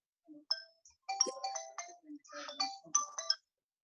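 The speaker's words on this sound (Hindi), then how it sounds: "कौन फोन कर रहा है?" A phone ringtone sounds during a FoxPro database practical session, a bright electronic melody of several short chiming notes in quick bursts, clear and close against silence.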